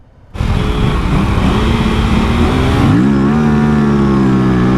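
A sport motorcycle launches hard in a drag race against rival bikes. The engine bursts in abruptly and roars loud and close, holding a steady, sustained blare, with the pitch shifting at a gear change partway through.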